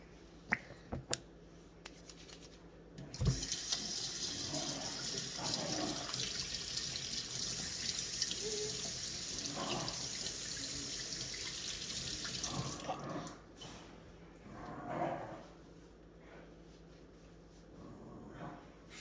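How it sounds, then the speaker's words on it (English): Hands are washed under a running kitchen tap before baking brownies; a few sharp clicks and knocks come first, then a steady loud gush of water for several seconds, ending with brief splashes. "so you wash your hands before you start cooking"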